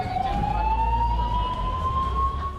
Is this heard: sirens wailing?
yes